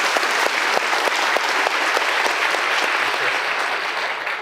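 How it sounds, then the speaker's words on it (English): A lecture-hall audience at a Royal Institution Christmas science lecture gives a loud, sustained round of applause, dense, even clapping lasting several seconds with no talk. "All right, big round of applause."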